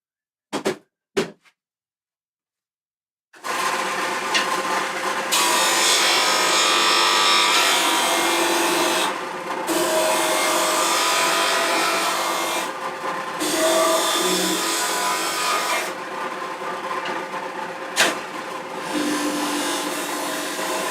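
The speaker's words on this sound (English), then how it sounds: "Just take that a little bit out with a sander." Power sander grinding a wood offcut for a guitar: two brief taps, then a loud, steady whir with raspy sanding that briefly pauses and resumes several times, close and continuous with no talking.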